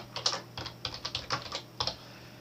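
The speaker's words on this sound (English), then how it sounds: "So I'm just going to type that in" A password being typed on a computer keyboard, a quick string of light, close key clicks in an uneven rhythm, quiet and alone.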